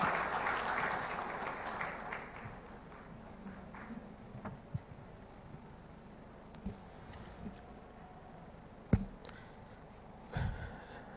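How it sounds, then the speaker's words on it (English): Audience applause for the Chief Minister of Maharashtra at an event, loudest at the start and then fading into a thinner, softer patter with scattered knocks and handling noises. "and gentlemen, a round of applause."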